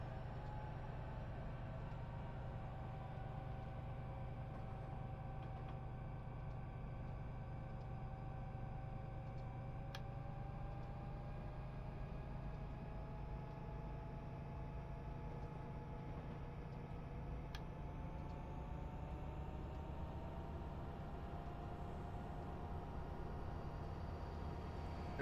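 A train rolls past on the Union Pacific track in Cajon Pass, a steady low rumble with long tonal whines and squeals, heard from inside a moving vehicle under constant road and engine noise.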